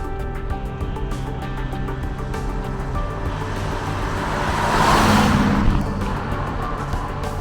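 A 1967 Chevrolet Camaro driving on the road, heard from inside: a steady engine hum and broad road and wind rush that swell briefly midway, with no talk.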